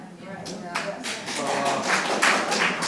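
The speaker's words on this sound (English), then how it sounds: "That's that applause, right?" An audience at a panel discussion forum breaks into applause, with separate claps building into a thicker patter over a few seconds as a voice talks through it.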